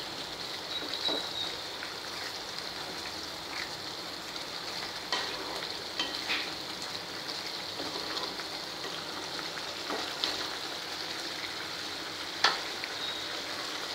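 A bottle gourd, sugar and cream mixture reducing in a pan gives a steady low sizzle and bubbling, with scattered soft scrapes of a spoon stirring through it and one sharper knock near the end.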